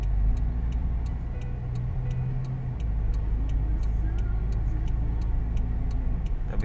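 A car driven by a learner, with a steady low engine hum from inside the cabin and a rhythmic turn-signal ticking throughout.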